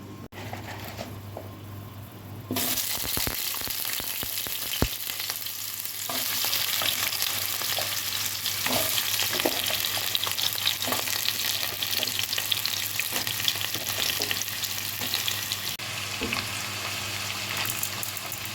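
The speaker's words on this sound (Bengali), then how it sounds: "আমি কিন্তু কচুটা ডিরেক্ট ভেজে নিচ্ছি" Taro (kochu) pieces frying directly in hot oil in a pan, a continuous loud sizzle that swells after a quieter opening, with occasional stirring clinks and scrapes throughout.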